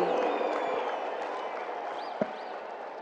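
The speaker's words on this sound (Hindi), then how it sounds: "आइए जोरदार तालियों के साथ आमंत्रित करते हैं" A large crowd claps loudly and steadily to welcome Prime Minister Narendra Modi at the GCMMF golden jubilee celebration in Ahmedabad, Gujarat, with sustained dense applause and a brief sharp knock near the end.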